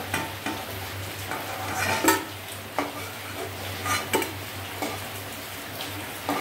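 Potato pieces fry in hot oil while being stirred in a pan, making a steady sizzle over a low hum, broken by intermittent scraping and clinking strokes of a utensil.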